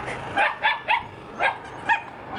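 Welsh terrier puppies give five short, high yips and barks in quick succession, close by indoors.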